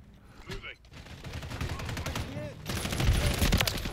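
Kastov 762 rifle fire punching through a wall in Call of Duty, a rapid burst of sharp cracks building toward the end, with game noise throughout.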